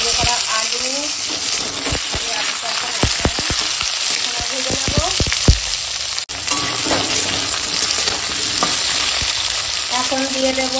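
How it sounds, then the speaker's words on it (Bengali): Potatoes fried with onions and green chilies sizzle loudly and continuously in a pan, broken by sharp scrapes and clatters of a spatula stirring, with a brief knock midway. "এখন পেঁয়াজ ছাড়া ভাজা হয়ে গেছে লঙ্কার সঙ্গে, আর দিলাম ভেজে করা আলু"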